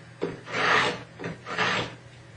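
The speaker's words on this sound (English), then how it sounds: "You hold the point at a slight angle as you drag it across the wood." Two slow rasping scrapes of a marking gauge's point dragged across a 1/8-inch-thick piece of wood, each stroke a soft close-up scratch rising and fading, with no voices.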